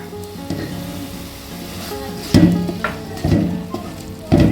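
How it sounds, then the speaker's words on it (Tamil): Tomatoes sautéing with salt in a pan for mutton dum biryani give a steady, close sizzle, broken by several louder bursts of stirring and scraping, with no talk. "தக்காளி சேர்த்து நல்லா வதக்கிங்க."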